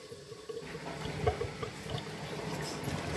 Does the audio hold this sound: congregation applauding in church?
no